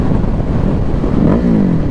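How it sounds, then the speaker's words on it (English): A 2021 Ducati 950 Hypermotard sits at a low idle near 1300 rpm, its engine rumbling close and loud with an uneven, slightly stumbling pulse and a brief rise in pitch near the end. "the bike idles a little bit too low for me at like 1300"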